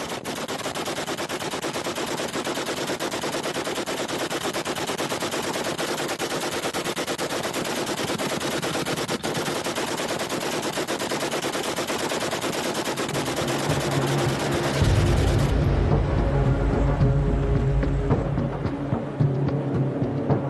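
Sustained rapid automatic gunfire rattles on continuously for about fifteen seconds, loud and dense, then stops, leaving a low rumbling hum.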